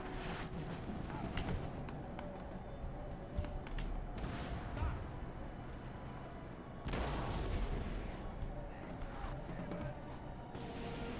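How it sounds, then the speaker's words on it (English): Artillery fires round shot in the Napoleon: Total War battle game, heard as repeated booms and rolling gunfire within a dense, continuous battle din. "Firing at them, let's get you firing a round shot at them."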